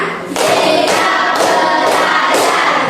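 A class of students performs the fifth 'tepuk semangat' pattern, loud group claps landing in strong rhythmic bursts roughly every half second, close and filling the room, with faint voices mixed in.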